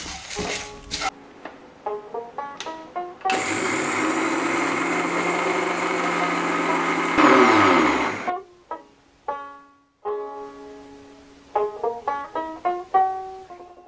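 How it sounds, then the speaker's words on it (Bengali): A mixer grinder whirs at full speed for about five seconds as it grinds roasted spices. The motor roar starts and stops abruptly, with tonal musical notes before and after it. "ঠান্ডা করে মিক্সি ঘুরিয়ে নেব"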